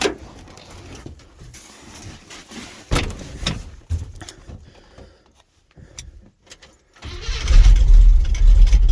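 An International truck on a weak battery cranks over during a cold start in snow, with uneven bursts of starter grinding and a pause, then a louder engine rumble near the end.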